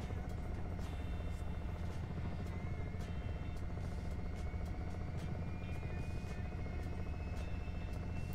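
A Black Hawk H-60 helicopter flies in Microsoft Flight Simulator with a steady, even rotor drone and a faint regular beat, continuous and alone without talking.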